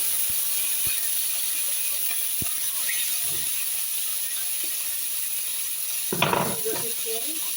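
Goat fat oil is added to a hot pan and bursts into a short, loud sizzle and hiss near the end. A faint steady hiss runs underneath with a few light clicks before it.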